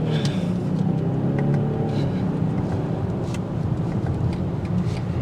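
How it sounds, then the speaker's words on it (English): A 2023 BMW X5 45e hybrid with an inline 6-cylinder twin-scroll engine accelerates in sport mode, a steady engine drone with road and wind noise heard from inside, continuous and fairly loud. "in sport mode, it livens up more, and the engine note sounds more like a BMW"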